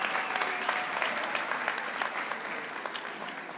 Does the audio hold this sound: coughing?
no